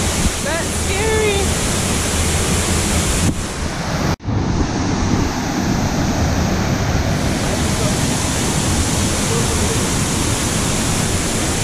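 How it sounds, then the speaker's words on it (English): A tall waterfall near Port Antonio, Jamaica, seen from a distance in light rain, gives a steady broadband rushing roar that fills the whole clip, with a short dropout just after four seconds. "So see that waterfall way up there?"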